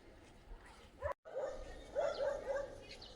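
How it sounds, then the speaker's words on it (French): A dog near a colourful wooden-crossed cemetery in Maramureș, Romania, gives a string of short yelping barks at middle distance over outdoor background noise. "Encore un chien qui est pas content."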